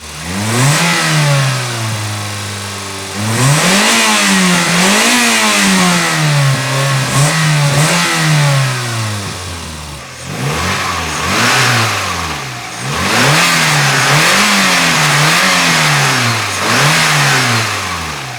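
Small high-revving engines of a Chevrolet Nova and a Volkswagen Scirocco climb and fall repeatedly, sharp rising revs followed by drops, loud and close with no talking.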